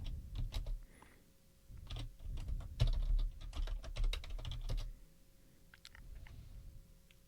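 Typing on a computer keyboard at a desk, heard as quick, close key clicks in irregular bursts. A busy flurry fills the middle, then there is a pause and a few sparse taps. It is faint, with a steady electrical hum underneath.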